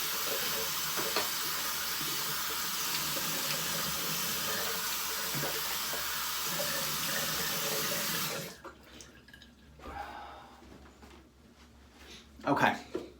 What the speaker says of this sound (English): let me go ahead and rinse off my face